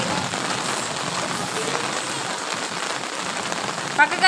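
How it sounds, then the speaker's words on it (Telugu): Heavy rain pours down steadily and loudly, a dense hiss of drops drumming on surfaces, with children playing outdoors in the downpour. "వర్షం పెద్దది పడుతుంది"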